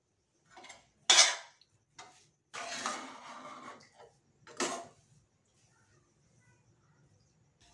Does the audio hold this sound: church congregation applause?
no